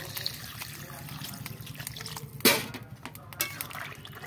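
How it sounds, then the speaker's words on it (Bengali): Water is poured into a cooking pot, a soft trickling with one louder splash and a second smaller one, faint and close with no talking. "এবার আমি জল ঢেলে দেব।"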